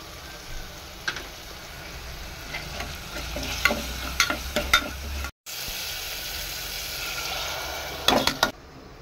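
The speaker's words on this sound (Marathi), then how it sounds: "खोबरं टाकलं डाळीमध्ये. छान उकळी येत आहे." Dal simmering with coconut and spices at a steady boil, a continuous bubbling hiss with scattered clinks and stirring scrapes, a brief gap midway, fairly close and moderately loud with no talk.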